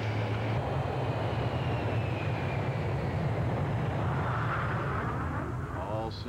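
Steady, loud engine drone of an airplane in flight, a continuous low roar with a faint whining tone that holds unchanged throughout, with no clear breaks.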